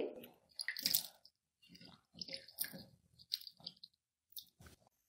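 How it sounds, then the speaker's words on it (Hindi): Potatoes cut for French fries are rubbed and rinsed by hand in water, giving bursts of wet squishing, splashing and dripping separated by short quiet gaps. "हल्के हाथों से हम इस तरह मल मल कर धो लेंगे"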